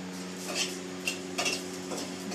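Whole cumin seeds roasting dry in a pan, stirred with a metal utensil that gives several light scrapes and clinks over a faint crackle, close with no speech.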